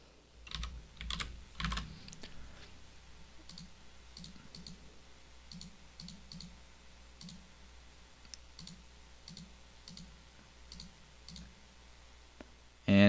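Computer mouse clicks on a desk during a Game of Life simulation in a coding tutorial: a quick cluster of clicks at first, then steady, evenly spaced single clicks, close and fairly quiet.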